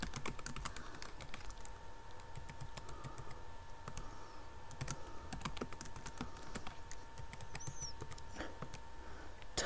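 Fingers typing a password on a computer keyboard, a run of quick, light key clicks in irregular bursts, close and fairly quiet with low room hiss, no talk.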